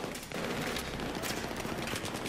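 MP7 submachine gun fire in Battlefield 3 inside buildings during a co-op mission, heard as faint, rapid bursts of game gunfire with no talk over it.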